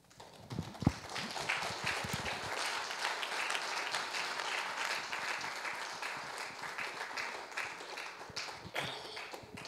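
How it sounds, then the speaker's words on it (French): Church congregation applauding for a woman, a dense sustained wash of clapping running nearly ten seconds after a louder start, moderately loud and fairly steady throughout. "Applaudis très fort pour elle."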